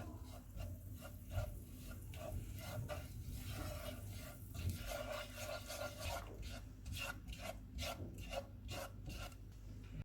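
Flour being roasted in melted butter in a pan while a spoon scrapes and stirs it, rhythmic rasping strokes repeating steadily, quiet and close.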